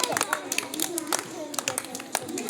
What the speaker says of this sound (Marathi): अरे वा टाळ्या वाजवा टाळ्या वाजवा